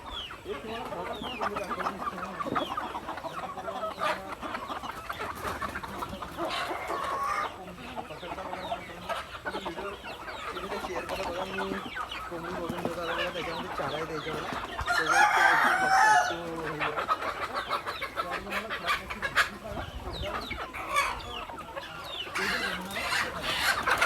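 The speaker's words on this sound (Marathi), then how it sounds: "खडकनाथची कोंबडी ठीक आहे" Kadaknath chickens cluck steadily throughout, with a rooster crowing loudly partway through; busy farmyard sounds, close and continuous.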